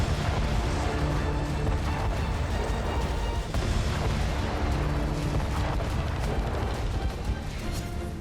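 An HQ-17 surface-to-air missile firing during a Chinese war rehearsal in below-freezing cold, a dense, loud, continuous roaring rumble that fills the whole stretch without letting up, with no clear voices over it.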